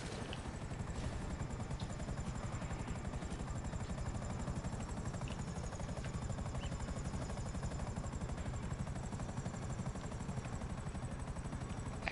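A Buzzard helicopter in a video game flies with a steady, loud rhythmic rotor chop and a high turbine whine that continue unbroken throughout.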